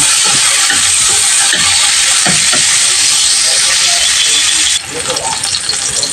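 Onion hits a hot pan and sizzles steadily while tilapia cooks for a tomato-based fish dish, with a loud continuous hiss throughout and a brief shift in texture near the end.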